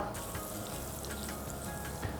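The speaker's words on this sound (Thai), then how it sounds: "ใส่เนยลงไปในกระทะร้อนๆนะครับ" Quiet, steady sizzling hiss of butter melting in a hot pan, soft crackles scattered through it, with no voices.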